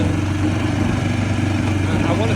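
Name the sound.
vehicle engine running with a noise from the rear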